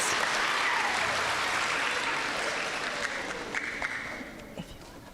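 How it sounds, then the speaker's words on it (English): Applause rises from the audience at a school awards ceremony for 4th to 6th graders, a broad wash of clapping that holds steady and gradually thins out toward the end. "Round of applause."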